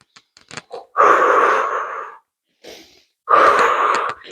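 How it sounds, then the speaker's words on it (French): Two long, audible breaths out through the mouth during a yoga and barre cardio session, each about a second long and close to the microphone, after a few short sniffs in through the nose. "Tu vas inspirer par le nez et expirer doucement par la bouche"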